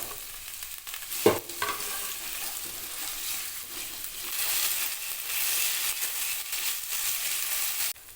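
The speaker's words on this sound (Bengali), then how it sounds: "তেলটা গরম হয়ে গেছে এবার কেটে রাখা আলু আর বেগুনটা ভেজে নেব" Cut potato and eggplant hit hot mustard oil with a sharp splash, then settle into a steady, loud sizzle that crackles on close by for several seconds, with no voices.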